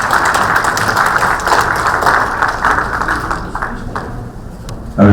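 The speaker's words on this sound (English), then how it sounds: "we have an applause for him, sir" An audience at a stage event applauds steadily for several seconds, a dense wash of clapping that thins out toward the end before a brief louder thump.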